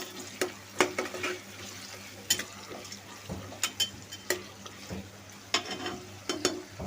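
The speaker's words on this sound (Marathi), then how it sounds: "त्याला आता आपण परतून घेऊ चांगलं" Onions sautéing in a pan until browned for pulao, a low steady sizzle with frequent sharp clicks and scrapes of a spoon stirring against the metal.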